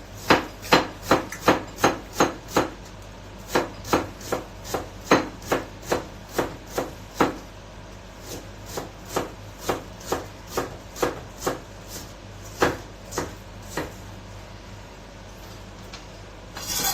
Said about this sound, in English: So I'm slicing actually around 2 small apples.